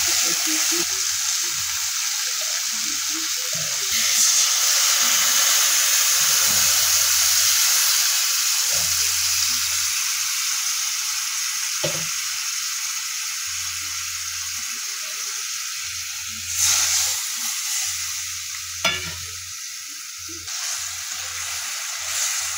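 Cumin seeds, chopped tomato and ground spices frying in hot oil for a fish roe curry, a loud sustained sizzle and hiss with occasional sharp scrapes of a spatula and low clunks of stirring, close by.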